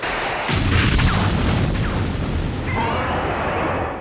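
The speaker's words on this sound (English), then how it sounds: "Firing tranquilizer missiles." Super Mecha Godzilla fires tranquilizer missiles in a Godzilla film scene, a dense continuous roar of booming blasts and whooshing launches that fills several seconds before easing off at the end.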